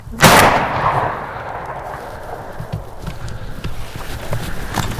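A single loud, close gunshot rings out at the start during a New Hampshire turkey hunt, with a sharp blast and a fading outdoor echo, followed by rustling and movement noise.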